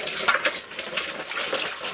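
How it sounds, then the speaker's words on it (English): Sanitizer water poured through a funnel during home beer brewing, a soft continuous trickle and splash heard close up for about two seconds. "I'm going to take a little bit of our sanitizer water,"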